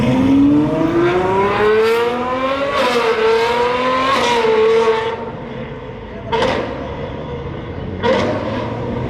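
Modified BMW 335i with a pops and bangs tune at a Dubai car show, its engine revving up in a rising howl, then settling and crackling out sharp pops and bangs in loud bursts, close by.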